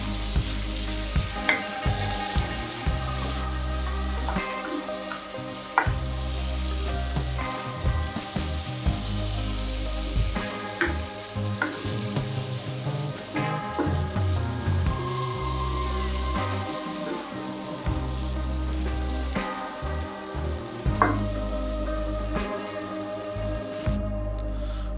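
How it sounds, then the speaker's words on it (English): Bacon and onions frying together in a skillet over medium heat, giving a steady loud sizzle with scraping stir strokes throughout and no talking. "add the onions to the skillet, reduce the heat to medium, and cook until softened"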